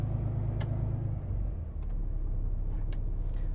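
A 2020 Kenworth W990 truck sits running as its high idle drops back, giving a steady, low diesel rumble nearby with a slight dip in level partway through.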